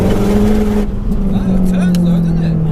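A 535bhp Mazda 3 MPS spins its front wheels on soft grass, its engine holding a loud, steady droning note close by that shifts slightly in pitch partway through.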